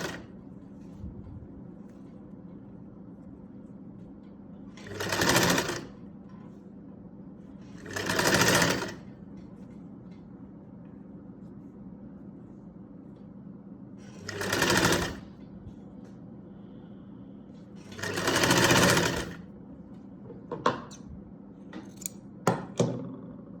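A sewing machine stitches the neckline of a kameez in about four short, whirring runs spaced several seconds apart. Quiet fabric handling and light clicks fill the pauses between runs.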